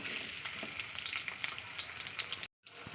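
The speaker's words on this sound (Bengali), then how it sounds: "তেলটা আমার গরম হয়ে গেছে এবার আমি দিয়ে দেবো পেঁয়াজটাকে" Onions fry in hot oil, a close, even crackling sizzle with a few light stirring taps, cut off by a short silent gap near the end before the sizzle resumes; no one speaks.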